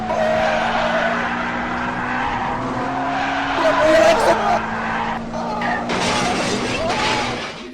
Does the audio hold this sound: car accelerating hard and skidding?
yes